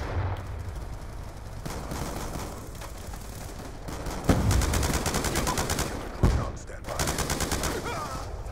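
Heavy gun firing in Call of Duty: Black Ops II, sustained rapid-fire bursts over a continuous game soundscape, with a couple of louder impacts mid-way, fairly loud and steady throughout.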